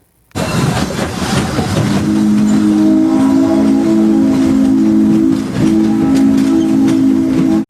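Frisco 1522 steam locomotive running, a loud, close, continuous rumble with a steady droning whistle tone on top that holds through most of the passage.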